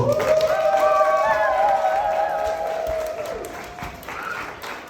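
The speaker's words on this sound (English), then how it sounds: "Can we start by giving a big round of applause for Ron and Carolyn?" Wedding guests applaud Ron and Carolyn in a steady wash of clapping, with sustained cheering tones riding over it before the applause gradually thins toward the end.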